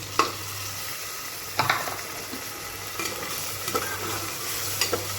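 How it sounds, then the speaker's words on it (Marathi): Cowpeas sautéing in a pan, a steady low sizzle broken by several scrapes and clacks of a spoon stirring at close range, with no talking. "थोडंसं पाच मिनटं आपण याला परतून देऊया"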